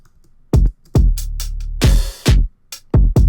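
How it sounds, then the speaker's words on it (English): Punchy drum beat with heavy low kicks, a sustained booming bass hit and bright hi-hats that duck and swell as they are sidechained, hits spaced irregularly, loud and close with no voices. "the hi-hats shift in and out of focus based on whether or not they're sidechained"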